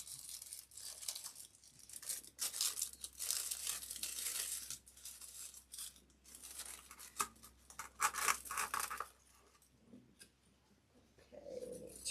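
Adhesive tape is pulled and torn off a roll while a balloon bouquet is assembled, giving a close series of sticky ripping and crinkling bursts that thin out toward the end, with no one talking.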